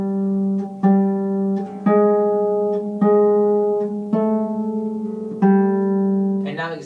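Lever harp plays a line of Ode to Joy as six or seven plucked notes at a steady, moderate pace, each ringing into the next, clear and close with no talking.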